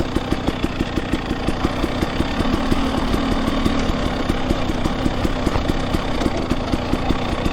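Two-stroke dirt bike engine running steadily at idle, a continuous rapid buzzing putter with fast even pulses, loud and close, out on a trail in light rain with no talking.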